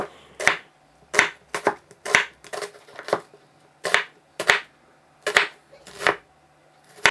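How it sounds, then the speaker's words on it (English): A knife slices half an onion finely on a cutting board, roughly a dozen crisp, close cuts in an uneven rhythm with short quiet gaps between strokes. "We're going to need half an onion, finely sliced."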